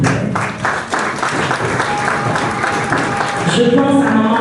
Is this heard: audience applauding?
yes